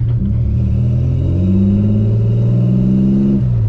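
A turbocharged 3800 V6 in a Camaro revs up hard under acceleration, a loud close rumbling drone that climbs steadily in pitch before easing off near the end.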